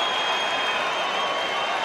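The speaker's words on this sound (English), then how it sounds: "You can hear what the crowd wants him to do." A steady, loud roar from a boxing arena crowd during the Jerwin Ancajas versus Jamie Conlan fight. It forms a dense, unbroken wash of noise that holds even for the whole stretch, with no single voice standing out.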